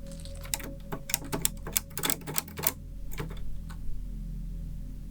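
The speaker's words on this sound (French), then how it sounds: "Oh, l'état de la machine à écrire." An old, worn typewriter in an abandoned house has its keys pressed in quick irregular bursts, each strike a sharp clack, close and fairly quiet, then a few scattered taps after a pause.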